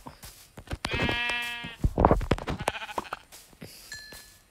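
A sheep in Minecraft bleats loudly several times in quick succession, wavering calls close by, broken up by brief clicks and a short tonal blip.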